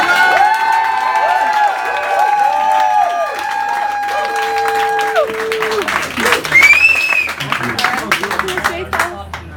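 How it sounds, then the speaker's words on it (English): A comedy club audience at Laugh at Leeds claps and cheers, with a sustained musical tone and sliding pitches sounding over the crowd early on, then louder mixed clapping and shouts. "let's get the round of applause going"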